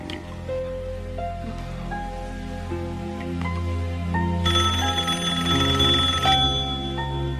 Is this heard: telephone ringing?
yes